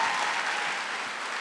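Dense, steady applause from a large audience at a graduation ceremony in a theater hall, continuous and fairly loud throughout the short stretch.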